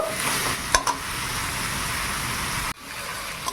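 Chicken for a stew is stirred and fried in a pan, giving a steady close sizzle with a few sharp scraping clatters near the start and a brief dropout near the end.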